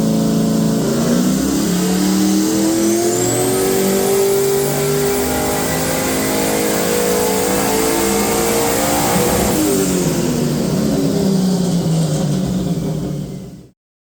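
A turbocharged Ford XG ute engine revs hard on a dyno, a loud sustained roar climbing steadily in pitch with a high turbo whine over it, holding near the top before easing off and cutting out abruptly.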